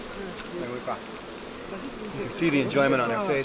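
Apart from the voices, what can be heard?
bees buzzing around a honeycomb hive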